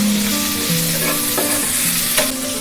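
Yardlong beans frying in a hot pan, cooked alongside beef steak, give a steady loud sizzle that is briefly stirred, with a faint scrape or two and no voices.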